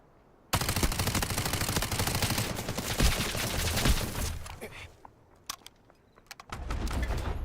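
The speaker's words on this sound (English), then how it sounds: "Someone's shooting." Automatic gunfire erupts in the Delta Force extraction shooter game, a loud sustained burst of rapid shots followed by scattered single cracks and then a fresh volley, with no talking over it.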